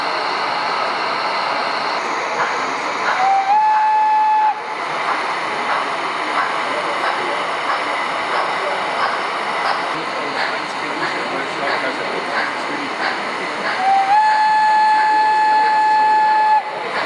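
A scale model of an SNCF 141P steam locomotive at a toy fair sounds its steam whistle twice, steady tones several seconds long, over continuous chuffing and hiss with a voice talking throughout.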